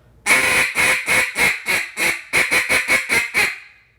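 A duck call blown to imitate a hen's quacks: a close, loud series of about eleven nasal quacks, a slower opening run followed by a quicker cluster, each note sharply separated, with no talking.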